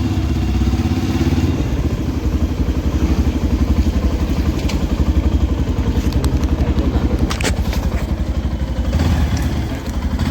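A motorbike rumbles loud and close at a housing society at night, its engine thumping in a steady idle rhythm with brief clattering knocks as it comes to a stop.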